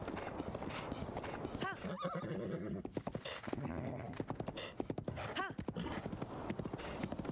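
A horse in The Legend of Zelda: Breath of the Wild gallops with rapid, steady hoof clip-clops and lets out several whinnies. A voice talks quietly underneath.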